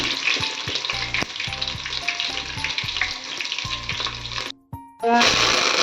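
Chopped garlic frying in oil with spluttering mustard seeds gives a loud, close, continuous crackling sizzle with pan stirring knocks, briefly dropping almost silent before the frying roars back.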